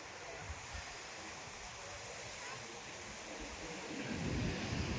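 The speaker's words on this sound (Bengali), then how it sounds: "এখানে ঢেউটা দারুণ" Steady roar of ocean waves on the sea shore beside Chilika Lake, broad and continuous, swelling slightly louder toward the end as a surge washes in.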